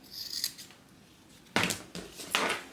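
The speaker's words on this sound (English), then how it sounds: "you're going to go ahead and trim it down just a little bit" Scissors trim the sewn fabric seam allowance of a bag, giving a few crisp close snips, one brief cut at the start and then three sharper ones in quick succession.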